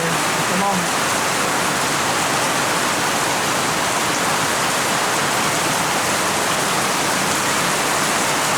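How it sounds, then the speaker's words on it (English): Heavy tropical rain pours down at a Philippine resort, a dense, constant roar of water hitting surfaces that fills the whole stretch. A brief faint voice sounds near the start. "All of a sudden, it just opened, the skies opened up and it poured out the rain."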